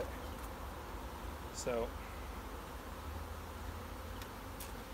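Honey bees swarm around a hive in a dense, steady buzz. A voice speaks briefly once and a few louder buzzes pass close by.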